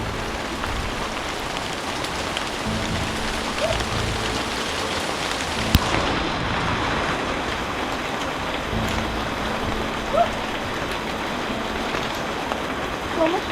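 Pouring rain falls on a vegetable garden during a pepper harvest, a dense, steady hiss of drops with a few sharper nearby splats and knocks throughout.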